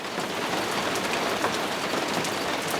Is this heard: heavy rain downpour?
yes